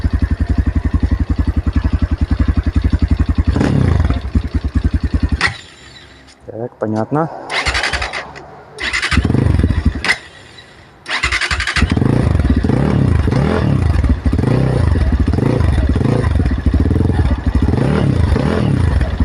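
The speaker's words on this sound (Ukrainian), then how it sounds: "трошки по пару раз дам газу, щоб все було видно краще по звуку" A 2025 TEKKEN Discovery 300 motorcycle idles with a loud, close exhaust thump, is blipped in a few sharp throttle revs with pauses between, then settles back into a steady, chugging idle; someone speaks briefly.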